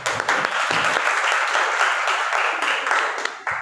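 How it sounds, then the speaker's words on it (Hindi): An audience at a college event in Rewa claps loudly and continuously, dense applause from many hands filling the room for a few seconds. "ताली बजाइए आप लोग"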